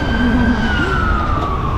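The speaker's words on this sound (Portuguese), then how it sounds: "Lá vem uma ambulância, Francisco." An ambulance siren wails loud and steady through a street in the historic centre of Laguna, Santa Catarina, Brazil, its pitch sliding slightly lower as it passes close by.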